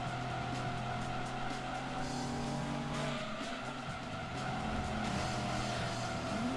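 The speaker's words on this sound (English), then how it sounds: "That was quite a big slide." Racing car engine drone in the video game Gran Turismo 2, with tire squeal and skidding as the car slides, steady and loud throughout.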